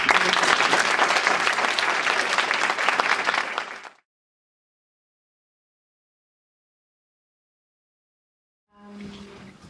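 Warm audience applause for a speaker at a leadership talk, a dense steady roar of many hands clapping for about four seconds before cutting off into silence, then faint sounds returning.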